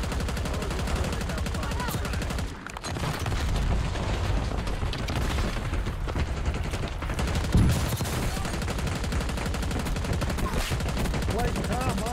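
Rapid bursts of gunfire from a GPR 91 rifle in the battle royale game Warzone crackle densely and loudly throughout, with a brief lull near the three-second mark and scattered impacts mixed in.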